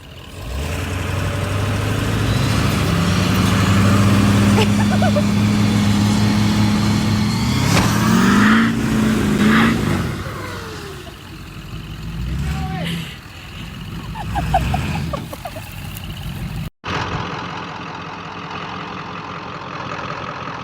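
A loud 1996 Ford F250 pickup engine revs and strains for several seconds while stuck in a mud hole, pitch climbing, then drops to a rougher idle with scattered clunks and splashes.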